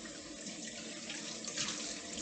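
Tap water pours steadily into a kitchen sink while a dish is rinsed, a continuous close splashing hiss that thickens briefly near the end, with no talking.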